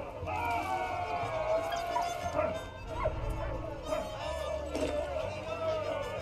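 Dog barking in the video game Valiant Hearts, several yips and barks spread through the game's sound, with a person talking over it.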